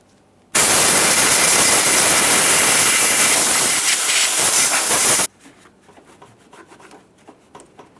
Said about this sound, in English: I'm just going to use some compressed air.